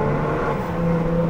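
A diesel Audi A5 3.0 TDI with its rear backbox deleted, idling with a steady, deep low drone and a faint whirring hum, close and continuous with no talking.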